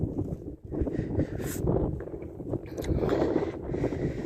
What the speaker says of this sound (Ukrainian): тут вже таке дує, дурне, холодне, страшне. Вітроган такий